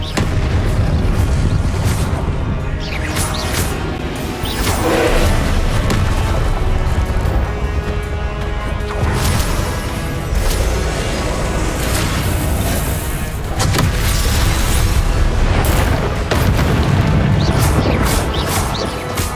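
Loud, dense battle din from Hogwarts Legacy: repeated booming Confringo blasting-spell explosions and crashes pile up continuously, with bursts recurring every few seconds and no pause.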